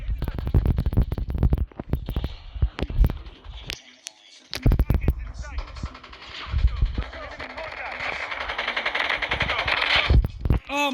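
RPD machine gun firing in the Call of Duty Mobile video game, with dense rapid bursts of automatic fire and a lull partway through, mixed with other game noise.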